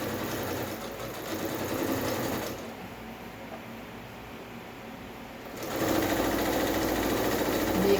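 A sewing machine stitches a blouse seam in a steady, fast mechanical whir, running in two bursts with a quieter pause between them.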